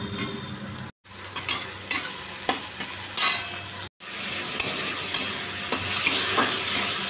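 Chopped onion frying in a pan with spices and tomato, stirred in repeated scraping strokes over a loud, continuous close sizzle, briefly cutting out twice.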